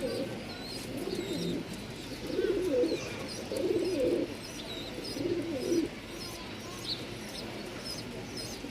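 Domestic pigeons for sale at a pigeon market in Mirpur-1, Dhaka, coo in repeated low, rolling bursts, close by and fairly clear, with softer chirps and background murmur around them.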